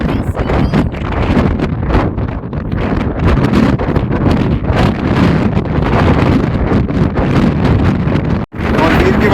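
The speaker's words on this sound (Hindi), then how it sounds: "और कितनी तेज हवा चल रही है" Strong mountain wind buffets the microphone continuously at the Namika La and Fotu La high-altitude passes in Ladakh, with summit flags flapping beside a parked Suzuki Jimny. It stays loud throughout, with a brief dropout near the end and speech partly masked under the roar.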